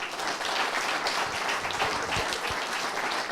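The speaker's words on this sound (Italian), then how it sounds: "un applauso al GS Postumia" A crowd at an under-23 Vajont memorial cycling race applauds the GS Postumia team, a continuous burst of clapping with a few louder individual claps standing out.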